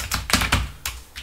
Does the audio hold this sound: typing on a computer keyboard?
yes